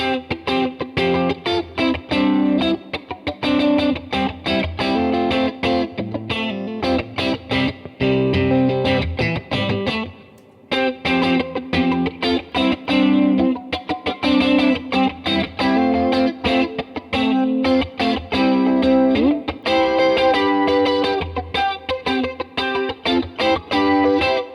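An LSL Silverlake electric guitar played through effects, a continuous run of driven, slightly distorted chords and riffs with a brief pause midway, no voices.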